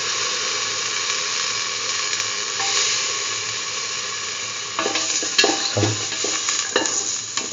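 Ginger and garlic stirred into a sizzling curry mixture for an egg and mung bean stew, a steady frying hiss with scraping spoon strokes growing busier toward the end, close and alone.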